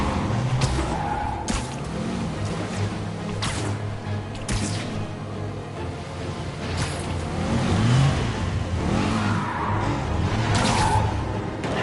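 Car skidding and revving hard during a movie chase scene, with continuous engine roar, tire squeal and whooshing passes, loud and busy throughout.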